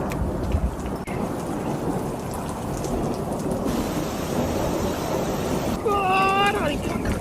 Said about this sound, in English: Rain falling.